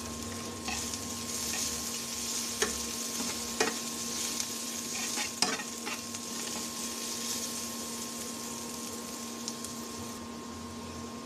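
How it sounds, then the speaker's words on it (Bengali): Onion and garlic frying in a pan, a steady close sizzle with intermittent spatula scrapes and clicks, a faint constant hum underneath. "বন্ধুরা, পেঁয়াজ রসুনটা টালা হয়ে গেছে"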